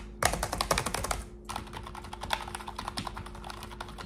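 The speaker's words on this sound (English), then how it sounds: "It's pretty quiet. I'm typing pretty hard." Typing on a Dell KB525C wired collaboration keyboard, a steady run of hard, fast key presses close up, with a brief pause before the clattering rhythm resumes, no voices.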